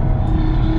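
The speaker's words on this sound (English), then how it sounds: "Have a listen to the fucking 5-cylinder" Stage 2 Audi RS3 five-cylinder engine revving on a night drive, heard from inside the car as a brief, steady, loud rumbling drone.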